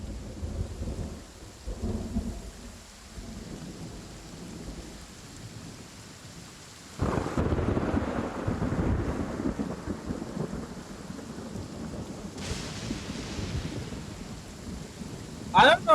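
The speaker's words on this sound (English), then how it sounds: "I don't know if the thunder is meant to be playing right now, but it definitely, definitely adds to the cinematic like of that" Thunder rumbling with rain during a Genshin Impact Archon Quest cutscene, a low steady storm bed that swells into a louder rolling crash midway and lingers.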